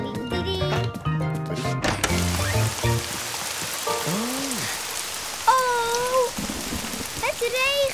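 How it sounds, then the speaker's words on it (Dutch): Cartoon rain pattering steadily in a children's animated show, a soft hiss of drops beneath music and chirpy sound effects, with gliding tonal swoops over the falling rain. "oh, het regent!"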